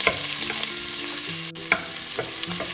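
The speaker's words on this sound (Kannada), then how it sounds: "ಈ ಸ್ವಲ್ಪ ಎಣ್ಣೆ ಒಳಗೆ ಬಾರಿಸಿದಂತ ಒಂದು ಈರುಳ್ಳಿ ಹಾಕ್ತಾ ಇದೀನಿ" Onion fries in a little oil in a pan with curry leaves for pulao, a crackling sizzle with a few quick stirring scrapes and spatters, close and steady.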